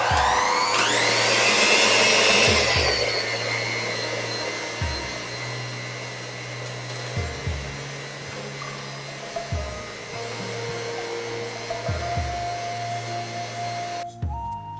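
A new electric mixer starts up and runs steadily at medium speed, beating cake batter with a continuous close motor whine and hum that settles after a louder start and carries on alone.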